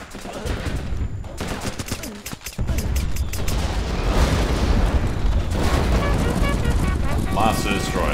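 A barrage of artillery rounds exploding in the Running with Rifles game, with dense rolling booms and crackling blasts merging into a continuous loud roar after a brief lull, plus scattered gunfire.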